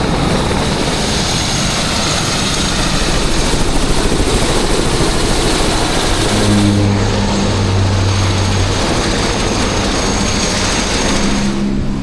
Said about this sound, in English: the plane literally has like 5 seconds to land